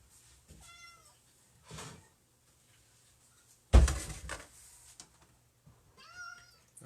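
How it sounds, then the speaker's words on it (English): A pet cat meows several times in a kitchen where milk is being measured, with harmonic calls near the start and end and a loud clatter in the middle, close and fairly quiet. "That's the kitty."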